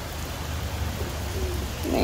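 Steady rain falls in Mumbai, a dense, even hiss of drops that continues throughout, with a voice rising briefly near the end.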